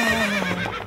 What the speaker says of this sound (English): Howdy, I'm Hampton the Horse.